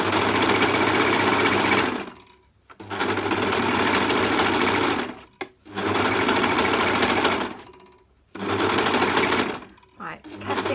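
A sewing machine with a cutting blade stitching fabric for reusable makeup remover pads runs in four long, loud, steady bursts of whirring stitching, separated by brief silent pauses.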